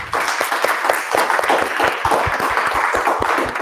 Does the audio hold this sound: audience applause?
yes